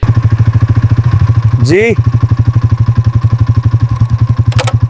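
Motorcycle stopped by a police officer at the roadside, its engine idling with a loud, close, steady chugging pulse throughout while a voice briefly speaks over it.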